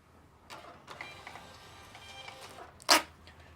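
An office printer runs with faint mechanical clicks and whirs, then a brief louder burst of feeding noise near the end.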